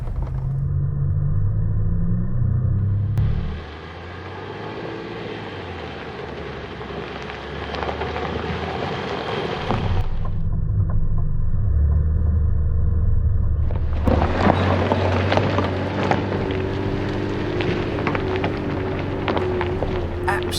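2025 RAM 1500 Hurricane crawling off-road in 4-wheel low, with a steady low engine and road rumble and crunching, rattling tire noise throughout, loud and close from inside the cab.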